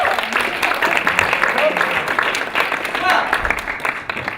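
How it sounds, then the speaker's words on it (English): Applause at a BYU murder mystery evening, a moderately loud, sustained patter of clapping with voices mixed underneath throughout. "Please give a round of applause."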